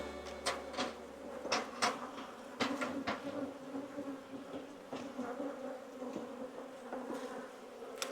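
Honey bees swarm over an open double-deep hive topped with a honey super, producing a steady, close buzzing drone broken by occasional sharp knocks and clicks from handling the hive frames.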